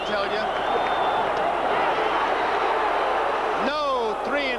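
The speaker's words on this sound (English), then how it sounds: "Listen to the crowd." Crowd noise at a baseball stadium during Game 1 of the 1980 World Series, a steady roar that keeps going under the broadcast commentary, with rising whistles near the end.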